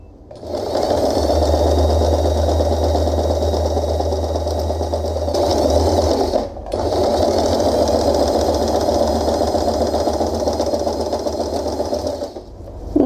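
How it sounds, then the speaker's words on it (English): A sewing machine stitches folded organza fabric for a layered scrunchie, running loud and steady with a low motor hum, pausing briefly midway before resuming and then stopping near the end, with no speech. "fold the fabric in half, and we are going to sew this part."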